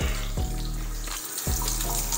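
Water runs steadily from a bathroom lavatory sink faucet during a residential plumbing final inspection, a continuous close rushing stream with a brief dip partway through, heard alone with no talking.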